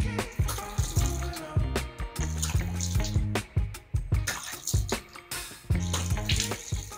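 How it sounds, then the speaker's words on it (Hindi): Tap water runs steadily into a sink during face washing, a continuous close splashing stream broken by irregular splashes as hands move through the flow. "पानी से इसको उतारना है, उसके बाद साबुन लगाना है।"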